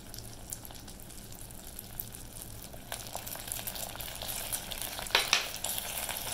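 Butter and vanilla being stirred into bubbling, browning sugar for peanut brittle make a soft, close frying hiss with wet scraping and stirring that grows busier, ending in a few sharp spatters and clacks.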